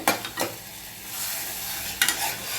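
Tomatoes with garlic frying in a pan for aloo bonda, sizzling steadily as a spoon stirs and scrapes in a few sharp bursts near the start and end.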